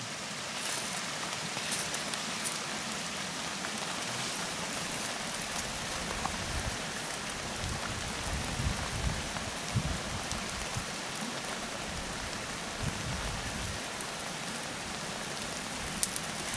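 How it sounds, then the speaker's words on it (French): Steady rain falling on a bivouac camp, a continuous dense patter of drops on surfaces, even and unbroken with occasional louder drips, no voices. "Alors la pluie a commencé à tomber."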